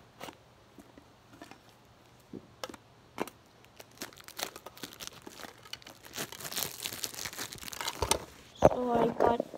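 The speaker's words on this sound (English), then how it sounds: "So I got the plastic wrapping off." Plastic wrapping is torn off a mini Pokémon tin close by, starting with scattered crackles and building to dense rustling and ripping toward the end.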